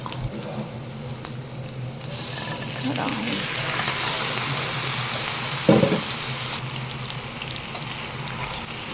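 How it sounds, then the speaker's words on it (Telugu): Pasta being stirred with beaten egg in a hot pan gives a steady sizzle, with a sharp scrape of the utensil midway through; a voice talks faintly under the frying. "సో ఎగ్ పాస్తా కలిసేంత వరకు కలపాలి మనం."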